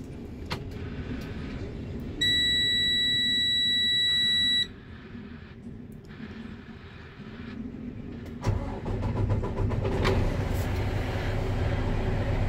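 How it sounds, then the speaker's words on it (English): A 2022 Freightliner truck starts up as a high warning buzzer sounds for a couple of seconds, then the engine cranks and catches into a low, steady diesel idle at close range. "So we'll start the vehicle up."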